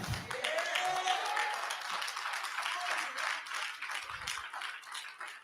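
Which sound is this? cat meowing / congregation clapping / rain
congregation clapping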